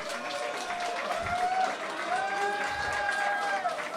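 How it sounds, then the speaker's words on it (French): A crowd at the Mister Rubber France 2024 election applauds a contestant named Léonard, a moderate continuous clapping heard from a distance and underlaid by music and crowd murmur. "tonnerre d'applaudissements pour Léonard, s'il vous plaît"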